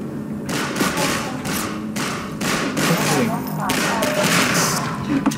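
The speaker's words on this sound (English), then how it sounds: "Hey, stop shooting me." Half-Life 2 gunfire in a subway area, a string of irregular loud shots and thuds over several seconds.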